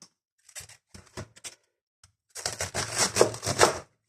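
A knife cuts through a large white cabbage on a board, with a few short crisp crunches, then a longer dense crackling crunch as the blade pushes through to halve the head, close and clear with no talk.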